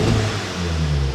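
Volkswagen Golf R engine revving outside race mode: a short, loud, close rev with a deep engine note that dips slightly and rises again.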